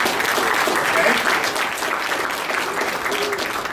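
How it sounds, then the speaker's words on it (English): A crowd at a technology conference applauds the sponsor companies with steady, moderately loud clapping that holds for the whole stretch and tapers slightly toward the end. "Let's give them all a round of applause."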